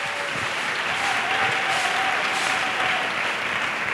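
A church congregation applauds for Jesus during a testimony gathering, a dense, continuous wash of clapping from many hands that holds steady for the whole few seconds, with no one speaking over it.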